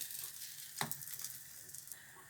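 A corn omelette sizzles softly in a pan after being flipped, a faint continuous frying hiss with a brief clatter partway through.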